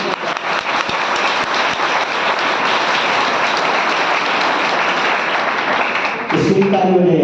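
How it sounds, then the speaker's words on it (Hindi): A crowd at a Jain temple religious discourse breaks into sustained, loud applause that continues evenly for several seconds, then a voice starts speaking over the final moments. "इसकी ताली बजाई आपने"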